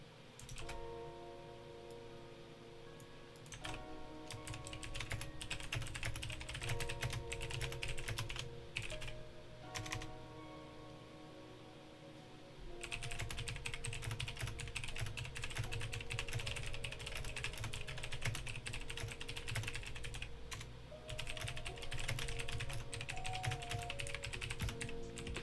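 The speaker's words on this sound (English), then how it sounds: "Sorry, a lot of typing." Rapid typing on a computer keyboard in a live trading-chart session, with dense bursts of close key clicks, a pause around ten to thirteen seconds, then more sustained typing.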